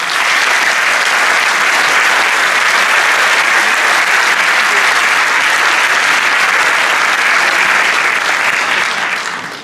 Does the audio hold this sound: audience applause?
yes